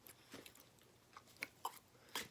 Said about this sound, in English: we're chewing with our mouth full